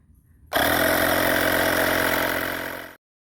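A portable battery-operated air compressor switches on abruptly and runs with a steady, loud motor drone and faint rattle for about two and a half seconds before cutting off, with no talk.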